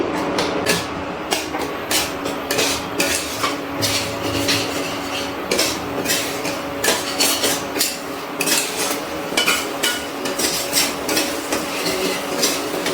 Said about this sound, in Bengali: এবার আবারও সব কিছু ভালো করে মিশিয়ে আরও একবার আমি কষিয়ে নিচ্ছি